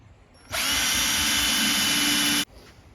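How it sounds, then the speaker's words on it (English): Up close, a power drill drives screws into a simple wooden Langstroth beehive box, giving one steady, loud whine that lasts about two seconds and then cuts off sharply. "Get your drill, screw the box together."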